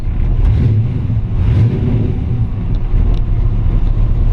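A 1940 Ford all-steel coupe resto-rod with a 350 V8 running close by, a loud, steady low rumble with a slightly lumpy idle and faint mechanical whir throughout.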